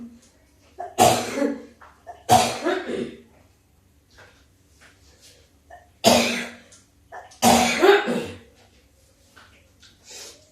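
A person with a lingering seasonal cough coughs in four sharp, loud bursts, two close together, a pause, then two more, in a quiet room with no talking.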